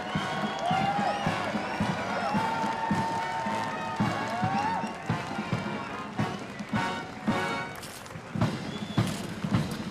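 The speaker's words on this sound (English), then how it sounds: "I'm hearing the crowd applaud the Ukrainian detachment" A crowd applauding a Ukrainian detachment marching at a VE Day parade on the Mall, with steady clapping and cheering heard from a distance, continuous and broad, with a commentator's voice and some whistle-like tones over it.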